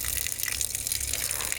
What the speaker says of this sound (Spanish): Y acá lo que hacemos es abrir por aquí, tenemos una manguera